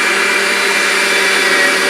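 An electric meat grinder processes beef and Italian sausage for steak burgers, a steady loud motorized whir with a gritty broadband roar that holds unbroken throughout, with no talk.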